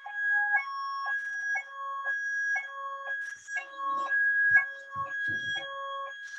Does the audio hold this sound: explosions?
no